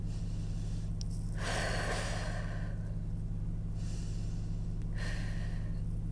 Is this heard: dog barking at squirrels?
no